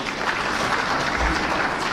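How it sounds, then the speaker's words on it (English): An audience at a meeting with business tycoons gives the President a burst of dense, loud applause, many hands clapping together without pause for the whole short stretch. "we give him a clap"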